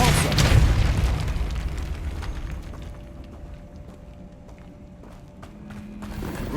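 Casting the Depulso spell in Hogwarts Legacy lets off a loud booming blast at the start that fades into rumbling ambience with scattered clatter, ending with another rising swell of sound.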